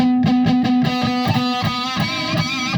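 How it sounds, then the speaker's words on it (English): Distorted electric guitar playing a series of chugging, crunchy chords with sustained harmonic-rich tones, loud and close, no talking. "I'm gonna hit the distortion."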